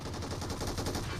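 Rapid bursts of gunfire in the mobile battle-royale game PUBG Mobile, a dense, steady volley filling a short moment with no pause between shots.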